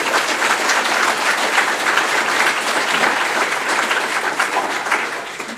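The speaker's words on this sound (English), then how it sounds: "So would you mind giving Carol and Kate a big round of applause?" Sustained applause from a lecture audience, dense and even clapping at a steady loud level from start to finish before tapering slightly at the end, with no voices over it.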